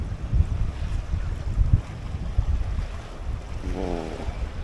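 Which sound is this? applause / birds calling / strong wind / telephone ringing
strong wind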